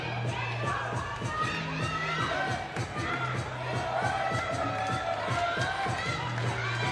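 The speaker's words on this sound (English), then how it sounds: "The Mongolian fans are getting loud." Mongolian fans cheer and shout loudly at a FIBA 3x3 Olympic Qualifying Tournament basketball game in 2024, with sustained crowd roar, high-pitched yells and occasional ball bounces beneath.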